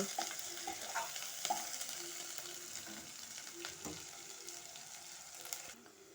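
Fried ivy gourd pieces go into a curry with turmeric and are stirred in a pan. A soft, continuous sizzle is broken by occasional spoon scrapes and clicks, with no talking.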